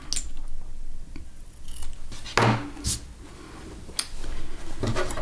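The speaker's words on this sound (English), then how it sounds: "just trim my corners." Scissors snip fabric corners of a small sewn pincushion, a few sharp close cuts with a louder crunching snip midway and lighter clicks after, no talking.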